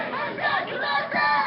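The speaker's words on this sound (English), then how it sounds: "The crowd cheers from all sides." A crowd cheers and shouts from all sides as an arrested person is taken into custody at a street protest, a continuous mass of voices at moderate distance.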